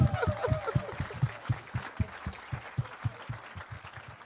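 A church congregation claps together in a steady, rhythmic beat, loud and close, with a few voices calling out over the applause.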